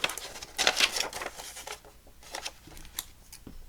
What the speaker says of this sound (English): Just going to cut down there first.